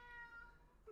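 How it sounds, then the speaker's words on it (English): A house cat meows once, a clear drawn-out tonal cry followed by a short rising second call near the end, faint but distinct with no talk. "That is my cat."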